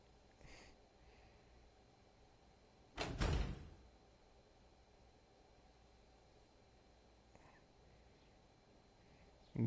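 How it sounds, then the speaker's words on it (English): Soft door click in a visual novel sound effect, a single short sharp burst against a quiet hiss, with a faint tap shortly before and another at the very end. "Faintly, I can make out the click of the door."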